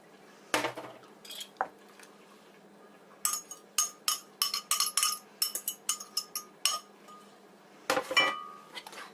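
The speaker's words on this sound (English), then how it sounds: "And then mix it all together." Beaten eggs and milk being mixed into Welsh cake batter, with a spoon or whisk clinking against a bowl in quick irregular bursts, loud and close, between quieter pauses.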